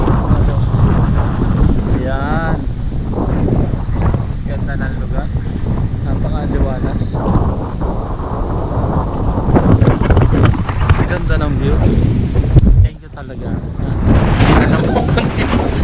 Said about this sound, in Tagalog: Kung naririnig ninyo yung hangin, napakalakas.